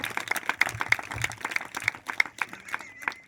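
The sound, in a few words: congregation clapping hands loudly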